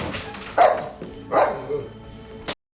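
A dog in the film Hannibal (2001) barks twice in sharp, loud bursts about a second apart, followed by a brief yip just before the sound cuts off.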